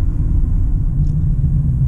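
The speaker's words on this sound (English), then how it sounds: "you still hear the engine and the transmission" Inside the cabin of a Mercedes C-Class, the engine and transmission make a steady, deep rumbling drone that stays constant throughout.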